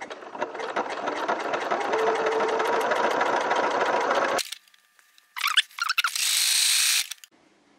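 A sewing machine stitches along the butted edges of a garment's neckline or cuff finish, running steadily for about four seconds before stopping, followed by a couple of short bursts of stitching.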